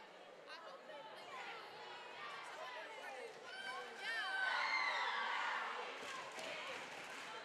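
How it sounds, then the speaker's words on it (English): A school basketball crowd cheering for the Massey players at a tournament game, a broad wash of voices and shouts that swells midway, with sneaker squeaks and a ball bouncing under the noise. "A lot of cheering for Massey."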